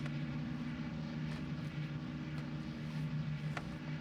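A Yak fighter plane engine in the flight game IL-2 Sturmovik 1946 drones steadily and loudly throughout, with a constant deep propeller hum and no pauses.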